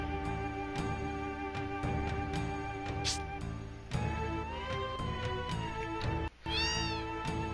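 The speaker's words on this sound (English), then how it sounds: "A lot of cats." Several cats meow repeatedly in Final Fantasy VII, with rising and falling cries over continuous game music and a brief dropout near the end.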